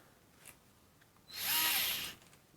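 A DEWALT 4V cordless screwdriver runs in first gear in one short, close motor whir lasting under a second, with quiet handling noise before it.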